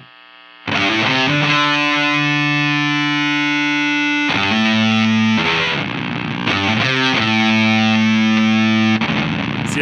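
Heavily distorted electric guitar through an Expandora distortion pedal, chugging palm-muted riffs in loud sustained bursts with short breaks between phrases.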